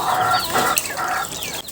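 Several chickens cluck in quick bursts, fairly close, with a steady murmur of the flock and no speech.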